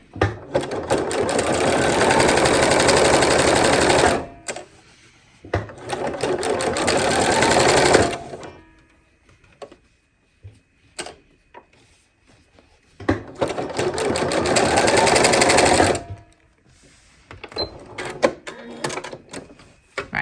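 A sewing machine stitches denim quilt blocks in three long runs of rapid mechanical whirring, loud and close, separated by quieter pauses with fabric handling.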